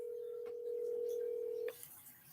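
An outgoing telephone call's ringback tone, a single steady hum held for about a second before cutting off, faint and alone on the line with quiet background.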